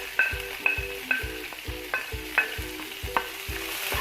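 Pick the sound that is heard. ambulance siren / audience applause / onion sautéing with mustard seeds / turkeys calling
onion sautéing with mustard seeds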